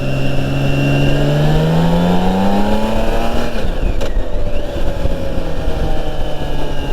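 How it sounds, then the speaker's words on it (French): A six-cylinder BMW K1600 motorcycle roars close and loud, its engine note climbing steadily as it accelerates, then easing into a steady drone. "le rugissement du 6 cylindres"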